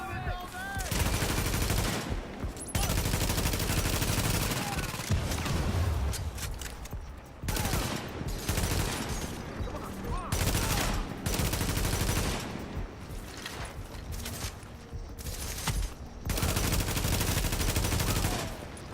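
Sustained automatic turret gunfire in a PvP survival video game, loud and dense with brief pauses between long bursts over about nineteen seconds.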